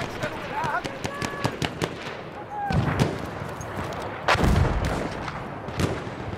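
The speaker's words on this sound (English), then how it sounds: "Coordinates have been sent to our artillery." Artillery fire in the Battlefield video game lands as repeated sharp blasts, with heavier booms near the middle and end over a noisy battlefield bed, and voices are heard in places.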